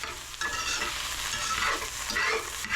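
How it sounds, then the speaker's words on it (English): A hot skillet being stirred constantly gives a loud, dense sizzle with continuous scraping strokes, close up and with no talking. "Notice I'm constantly stirring"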